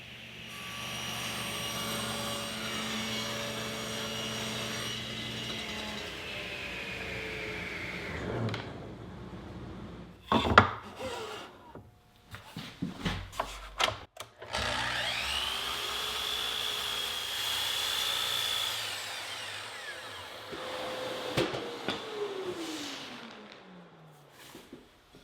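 Poplar wood parts for drawer runners are cut to size on a power saw: a steady high motor whine runs through the cuts, broken by a short pause with clunks of handling before the saw spins up again and winds down.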